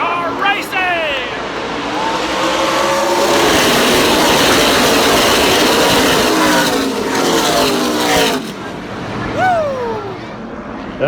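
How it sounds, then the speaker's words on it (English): NASCAR race cars lined up at Martinsville Speedway in Virginia, a loud, steady wash of engine roar filling the scene with rising whine tones, while a crowd and voices chatter over it. "Here it is, cars lined up ready to get a start. We're at Martinsville Speedway in Virginia."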